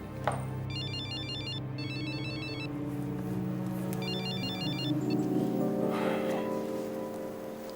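A telephone rings with a repeating electronic ringtone in bursts, heard under a steady musical drama score, with a soft rustle toward the end.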